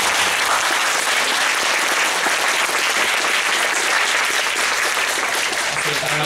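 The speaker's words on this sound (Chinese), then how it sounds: "再次热烈的掌声。" An audience at a talk gives sustained, dense applause, many hands clapping in an even roar that holds steady from start to finish, close and loud with no clear speech over it.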